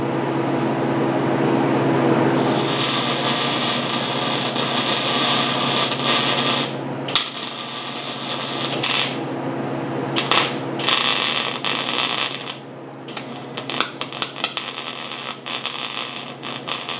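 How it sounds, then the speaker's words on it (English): Welding an antenna mount for a RZR off-road vehicle, a dense crackling hiss lasting several seconds, then broken into short bursts with brief pauses, close and loud, no voices. "We just need to weld it up."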